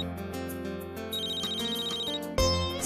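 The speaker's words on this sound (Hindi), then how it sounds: "अभी याद किया और अभी फोन आ गया" A phone ringtone plays continuously as an incoming call arrives, a steady melodic electronic tone that is loud and close, ending in a sharper accent near the end. No one speaks.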